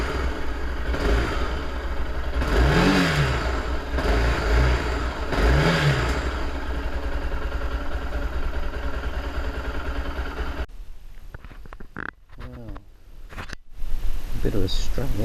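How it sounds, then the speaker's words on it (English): A Suzuki DR650 motorcycle fitted with a Barrett exhaust runs close by, its engine rising in two strong revs over a steady idle before cutting off, followed by clatter and handling sounds. "Got a bit of a rev so I can do it."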